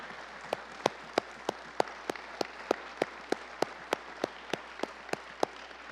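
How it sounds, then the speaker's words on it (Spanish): Clapping from a church conference congregation, heard as quiet, evenly spaced claps in a steady rhythm of about three per second over low background hiss. "si puede darle un aplauso fuerte al Señor Jesucristo"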